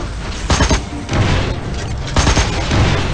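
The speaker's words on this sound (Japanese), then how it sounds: "超重力砲発射" Anime super gravity cannon firing from a battleship in Arpeggio of Blue Steel, a series of loud heavy booming blasts with roaring rumble, three big surges across a few seconds, no talk.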